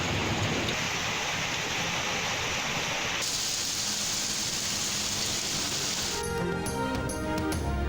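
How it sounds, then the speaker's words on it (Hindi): Heavy downpour in Islamabad and Punjab, a dense, steady roar of rain hammering surfaces with constant splashing texture throughout, shifting slightly midway and ending with clattering drips. "इस्लामाबाद और पंजाब के मुख्तलिफ शहरों में मूसलाधार बारिश"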